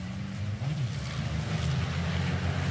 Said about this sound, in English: As you can hear them spike the revs as they head out of turn 2.